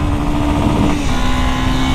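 A 2024 Honda Sahara 300 motorcycle engine roars loud and close during a top-speed run, holding a steady high-rev drone with a slight pitch shift partway through.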